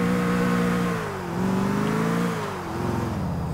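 In the video game GTA IV, a faulty car's engine revs loud and close, its tone climbing, dipping and rising again in smooth sweeps over a steady mechanical drone.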